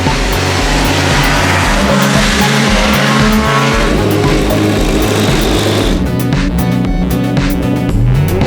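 A Porsche race car at a hill climb revs its engine loudly and close by, with a dense, roaring exhaust note that rises and holds. Tyre squeal joins in, and the tone shifts toward the end as the car pulls away.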